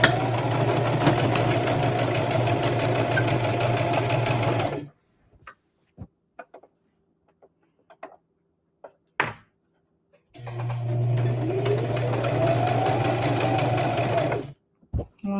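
A sewing machine stitching a Christmas stocking runs in two steady bursts of rapid mechanical whirring, with a quiet pause between filled by faint handling clicks.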